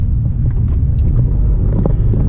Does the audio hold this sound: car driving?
yes